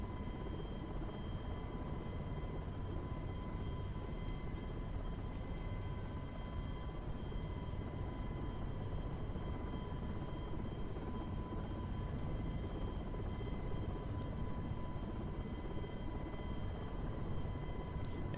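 A simulated helicopter flies in Flight Simulator X / Prepar3D, a steady, moderately faint rotor-and-turbine drone with a constant whine that holds unchanged throughout.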